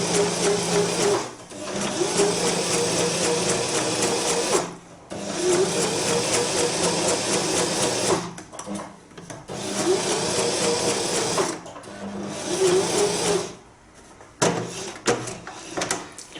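A sewing machine runs in steady bursts, stitching thread with a fast, whirring mechanical chatter broken by short pauses, close and loud, without talk.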